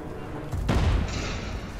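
Gunfire in Warface, a military shooter, during a bomb-mode ranked match: a sharp, loud blast about halfway through with a low booming tail and lingering ambience afterward, no talk.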